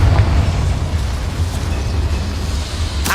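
A Confringo fire spell bursts in the video game Hogwarts Legacy, a booming, rumbling explosion with heavy low-end that rolls on for about three seconds before a sharp crack at the end.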